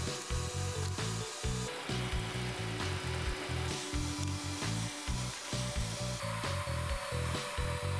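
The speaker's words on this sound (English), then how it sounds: "Now I do some drilling here again for the pivot point" A power drill whirs in repeated short bursts, drilling pivot holes in wood for a sharpening jig, with grinding, stuttering pulses, close and steady.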